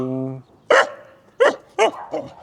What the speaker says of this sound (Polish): Szczekają głośno pieski Karim